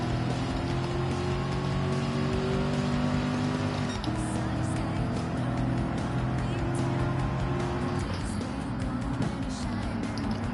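A Camaro's engine drones steadily under acceleration in Gran Turismo 7 during a race, its pitch stepping down briefly twice with gear changes before climbing again, loud and continuous throughout.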